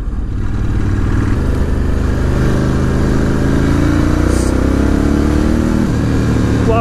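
A 2018 Ducati Scrambler 1100 Special rumbles loud and close while riding, its engine pitch rising and falling through gear changes with brief rev blips on the downshifts.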